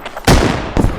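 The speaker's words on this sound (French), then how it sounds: "À l'ouest, ça tire à l'ouest." Two loud, close gunshots in a video game battle, a sharp blast followed half a second later by another, each leaving a brief rumbling decay.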